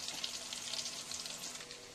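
Bitter gourd pieces coated in chilli powder sizzle steadily in hot oil for a pickle, a soft, even crackle with no voices.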